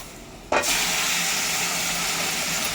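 Taro and potato hit hot tempered oil in a pan with a sudden loud sizzle, settling at once into a steady, close hiss that lasts to the end with no talking.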